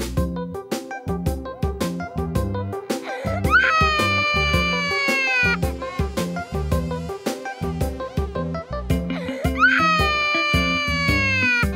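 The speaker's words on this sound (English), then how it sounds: "The sound of baby crying." A baby cries in a cartoon for kids, with repeated wailing bursts and rising cries over a steady rhythmic musical backing, loud and close.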